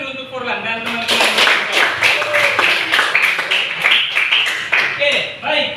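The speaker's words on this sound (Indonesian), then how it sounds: "Tepuk tangan dulu untuk Forlan dan teman-teman" Classroom of children clapping for a student and classmates, loud, rhythmic unison claps in steady bursts with voices mixed in throughout.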